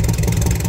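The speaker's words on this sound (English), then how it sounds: "come tell Owens here why this engine sounds so lekker" A turbocharged, fuel-injected VW Superbug Beetle engine with a T1 turbo runs close by in a short burst, a loud, throbbing, lumpy idle with rapid regular pulses and no voices.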